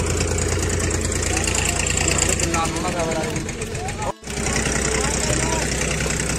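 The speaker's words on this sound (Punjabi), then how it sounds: "ਕਿਸ਼ਤੀ" A boat engine runs steadily on Govind Sagar Lake, a loud continuous mid-pitched drone with a brief dip near the end, while people talk over it.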